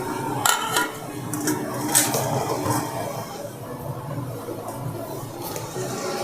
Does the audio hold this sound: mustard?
yes